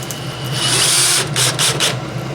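A DEWALT 12V XTREME brushless drill drives a screw in one steady, loud whirring run that strains and pulses near the end.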